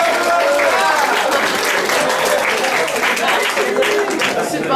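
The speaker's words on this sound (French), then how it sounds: "Donc, je vous demande d'applaudir bien fort Dark Zelda de The Legend of Zelda." Audience applause for a cosplayer at the Sunday cosplay parade of the Made In Japan 2012 convention: dense, loud, continuous clapping from a large crowd.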